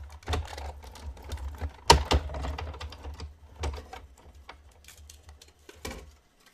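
A Big Shot die-cutting machine cuts a paper circle with a run of light irregular clicks and ratcheting ticks, close and quiet, with a sharper knock partway through.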